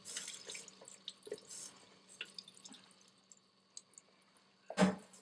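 Rice grains are rinsed under running water for Persian rice, quiet drips and splashes from a tap into a sink, ending in one louder splash.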